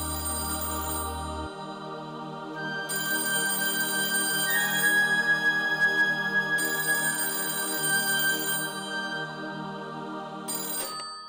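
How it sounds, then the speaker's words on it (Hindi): Telephone ringtone in a household scene from a Hindi TV drama, repeating melodic rings in bursts over several seconds, moderately loud and with no one speaking. "फोन बज रहा है"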